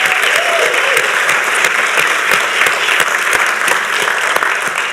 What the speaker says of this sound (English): Can we also give a round of applause to our judges?